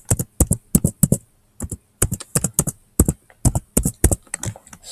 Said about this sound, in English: So I typed in Screencastify